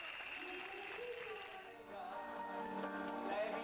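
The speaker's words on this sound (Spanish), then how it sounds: "La religiosa deja un pueblo dividido entre los que aplaudieron y los que pitaron sus palabras." Clapping and whistling come from a divided crowd of townspeople reacting to a nun's speech at a Santa Teresa celebration, a continuous dense wash of sound with a faint voice underneath.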